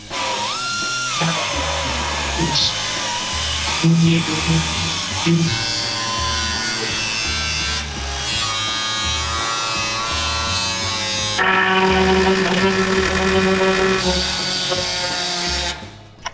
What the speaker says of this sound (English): What I'm doing is I'm cutting out the rust